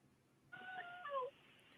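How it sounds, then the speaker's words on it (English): A house cat gives a single short, clear meow, faint and alone against a quiet room background. "here's my cat is meowing here"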